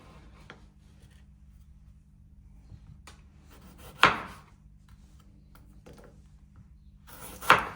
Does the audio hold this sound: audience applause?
no